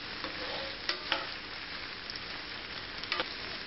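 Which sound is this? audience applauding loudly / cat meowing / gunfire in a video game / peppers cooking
peppers cooking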